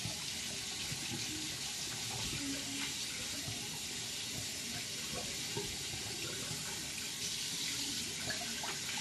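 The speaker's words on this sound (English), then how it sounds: "I'm going to rinse out my brush here real quick." Running tap water splashes steadily over a shaving brush, a continuous close rush with small gurgles and spatters as the bristles are worked under the stream; no speech is heard.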